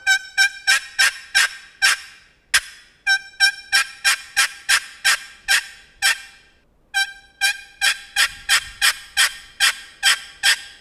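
Turkey box call worked in a series of plain yelps: crisp, loud, evenly spaced notes in quick runs, with brief pauses and a single sharp note between runs, played alone with no talk.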